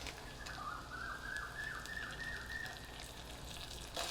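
Crushed ginger, garlic and green chillies with curry leaves hit hot oil for Maharashtrian kadhi, giving a steady, bright crackling sizzle with brief spitting pops, close and continuous without any voices.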